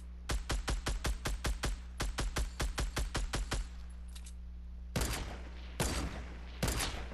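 Gunfire in the video game Fortnite: a rapid, steady string of loud, close automatic shots with a short pause partway through, then three heavier, separated bursts.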